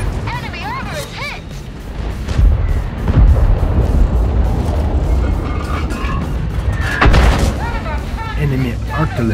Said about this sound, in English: Enemy artillery focuses our tank.